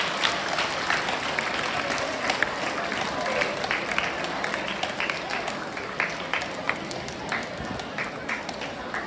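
Audience applause at a school youth parliament session, a continuous spread of clapping with scattered sharper claps and background crowd noise, heard at moderate loudness throughout.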